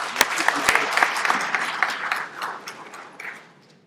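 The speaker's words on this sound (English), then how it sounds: "So can we give him a round of applause?" An audience at the launch of a Zimbabwe ICT innovation fund gives a round of applause for a young innovation speaker, a burst of dense clapping that thins out and fades toward the end.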